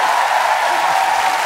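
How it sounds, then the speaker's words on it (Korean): Applause from the studio audience at a Korean TV comedy show, a dense continuous wash of clapping, loud and even throughout, with no voices on top. "박수가 애매하게 나온다."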